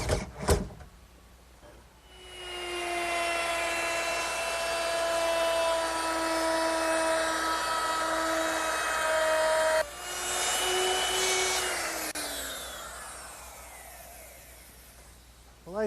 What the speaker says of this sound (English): I'm ready to fasten it down with some regular screws.